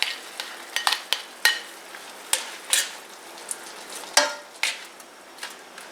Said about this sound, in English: add the mushrooms